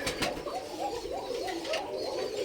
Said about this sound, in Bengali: এই পাশে সবগুলো হচ্ছে আমার সাদা কোকা কবুতর